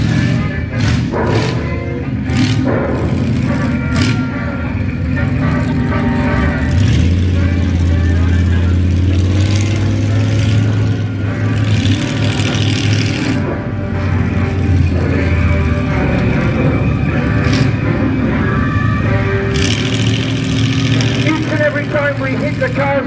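Monster truck engine at a Heckington show rumbling and revving continuously through a loud outdoor mix, with a deeper surge in the middle and an announcer talking over it.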